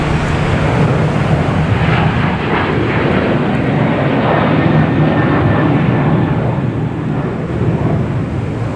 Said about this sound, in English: we have a 737-800 heading to Tampa